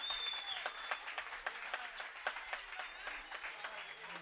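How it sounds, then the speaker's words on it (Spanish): Crowd applause at a football match as a player leaves the pitch, steady scattered clapping from the stands, moderately distant, with a commentator talking over it. "Aplausos para Angelito en la retirada del terreno de juego"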